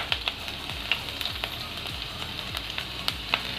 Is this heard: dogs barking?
no